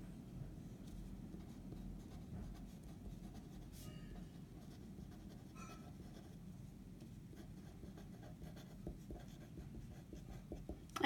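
A pen or marker scratches out notes in short irregular strokes, faint and close, over a low steady background rumble.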